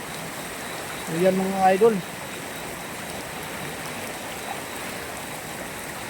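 Floodwater from heavy rain rushes past in a steady, broadband wash that holds constant from start to end, with someone speaking briefly over it.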